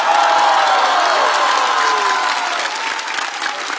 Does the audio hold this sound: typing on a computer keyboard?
no